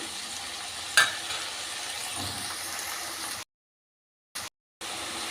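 Stirring tomatoes and mango in a pan for a Nellore-style fish curry, a steady close scraping and sizzle with one sharp clink near the start, then brief cutouts of silence.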